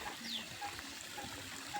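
Water runs in a steady, soft trickle, a continuous wash of flow heard up close with faint tonal chirps over it.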